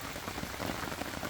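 Steady heavy rain pours down on a forest during a thunderstorm while backpacking in Indiana, a dense, even hiss of drops on leaves and ground, close and unbroken.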